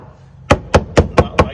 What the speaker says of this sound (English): If you tap it out, it should sound like this